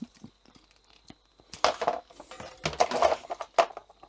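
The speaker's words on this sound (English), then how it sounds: "We'll cut that off." Plastic beer-line tubing being cut to length for a keg fitting, heard as a few sharp crunching snips and crinkles close by, bunched in the second half.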